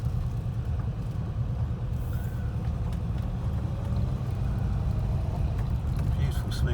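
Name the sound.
1971 Rover P5B 3.5 litre coupe driving, gear change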